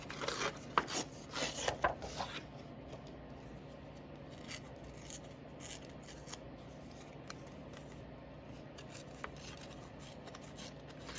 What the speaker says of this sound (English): I'm just gonna tear this for some moss.